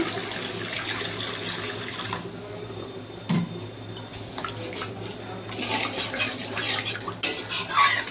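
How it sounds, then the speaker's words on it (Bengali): Water is poured into a pan of cooked-down spices for a fish curry, giving a steady splashing hiss with scattered clinks of a utensil against the pan, close by and without speech. "এবার আমি জল দিয়ে দেবো।"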